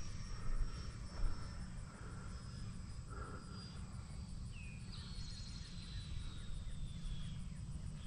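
Freewing Intruder RC jet with an AvantiS v2 electric ducted fan at half throttle, gear down and full flaps on approach, gives a faint, steady, distant whine that rises and falls slightly as it passes.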